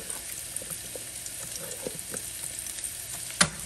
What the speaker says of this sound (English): Gonna put in some minced garlic.